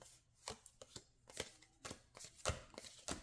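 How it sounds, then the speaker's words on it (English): A deck of cards being shuffled by hand, a run of quick crisp riffling bursts in an irregular rhythm, close and fairly quiet, with no voices. "going to shuffle these again."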